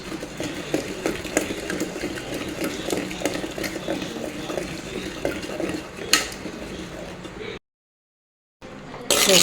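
Cooked tomatoes churned by hand with a wooden churner (mathu) in a pot, giving a continuous rhythmic scraping and knocking with clinks against the vessel, close and moderately loud, followed by a short silence.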